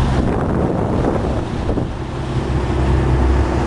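Boat runs through following seas in steady wind, a continuous loud rush of wind buffeting the microphone over water and waves, with no pauses throughout.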